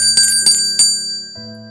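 A bright bell on an unattended hotel reception counter rings three quick times, crisp and close, each strike ringing briefly, followed by a low steady tone.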